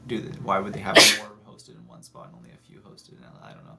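A single sharp sneeze bursts out loud and close amid conversation, with people talking before and after it.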